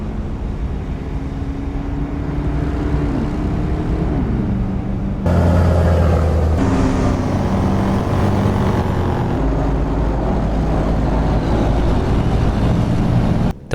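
Engine drone from AI traffic trucks passing on a highway in American Truck Simulator with a realistic truck sound mod, a steady loud rumble that swells and shifts as vehicles go by, no talk.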